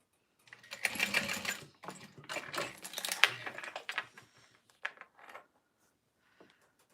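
A sewing machine runs in short bursts of stitching back and forth while sewing a Swoon Harriet bag, with small clicks and pauses between runs, close and moderately loud.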